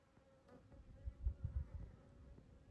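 Honey bees buzz softly around a hive in southern Arizona, a low, uneven hum that swells in the middle and then settles, faint and steady with no talking.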